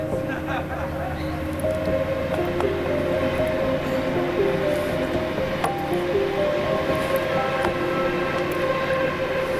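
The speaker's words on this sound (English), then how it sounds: "was that a train going past?" A train rumbles past near a lake at Wentworth Falls, a steady low roar and rattle lasting throughout, partly mixed with sustained synthesizer tones.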